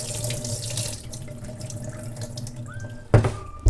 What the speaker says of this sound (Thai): จะลองน้ำเข้าไปในหม้อก่อนนะคะ